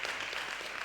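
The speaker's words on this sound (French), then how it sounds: "On applaudit" A short burst of steady applause from a conference audience, even and continuous for under a second with no voices over it.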